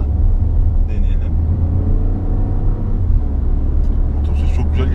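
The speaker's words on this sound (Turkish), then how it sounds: "Motor sesi kulağa çok hoş geliyor." Peugeot 2008 with a 1.2 PureTech petrol engine driven in sport mode, a steady low engine rumble heard from inside the cabin, with people talking over it.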